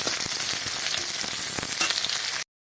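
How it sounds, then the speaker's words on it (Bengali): Chopped onions fry in hot oil with bay leaf, cinnamon, cloves and cardamom, giving a close, dense, steady sizzle with small crackles that cuts off abruptly at the end. "এবার আমি দিয়ে দেবো পেঁয়াজ পেঁয়াজ কুটি একটা ভালো করে লাল লাল করে ভেজে নেবো"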